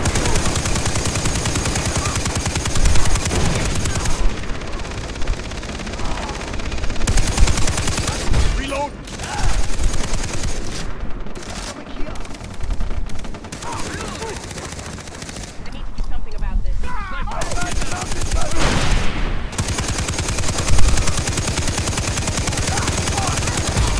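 Heavy sniper and automatic gunfire in the co-op shooter Far Cry 3, loud and dense bursts of shots and rattling fire that come and go, with short lulls between volleys.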